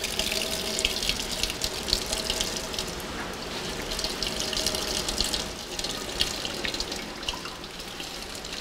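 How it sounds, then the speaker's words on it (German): Excess water wrung by hand from asparagus paper pulp in a coarse linen cloth, a close, continuous splashing and trickling stream with scattered drips, with no talking. "Das überschüssige Wasser der Pulpe wringt Gisela in einem grobmaschigen Leinentuch aus."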